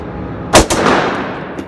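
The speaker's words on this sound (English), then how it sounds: "we're gonna do 2 back-to-back bill drills" A Taurus PT1911 pistol fires during a bill drill at about five yards: a loud close pair of sharp shots in quick succession, then a softer faint pop, with no talking.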